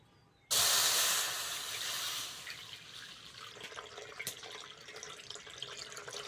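Milk, about 500 grams, pours into a pan to start a patishapta filling. A sudden splashing hiss starts loud, then settles into a softer trickling pour with occasional faint clinks.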